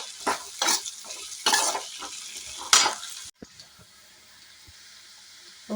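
Potatoes with turmeric and spices are stirred in a hot pan, giving several loud, rhythmic scraping and sizzling bursts that give way to a quieter, steady sizzle.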